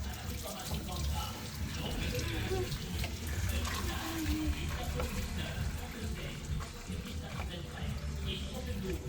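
Tap water runs steadily while washed hair is rinsed of soap, a continuous close splashing wash under a voice speaking at times.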